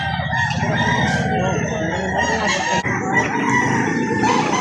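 Chickens and roosters at a poultry market in Lipa City, Batangas, cluck steadily while a rooster crows, loud and close, with a busy, crowded mix of birds throughout.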